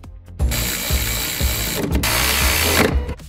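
Power tool or ratchet tightening bolts on the upper and lower door hinges of a Rolls-Royce Wraith, a close, steady whirring run with rhythmic pulsing that stops briefly and then resumes.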